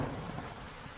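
Heavy rain and rumbling thunder from a storm in a Hindi children's cartoon, where the storm uproots a big tree; a dense, steady roar of downpour with low thunder rolling throughout, loud and continuous with no talk.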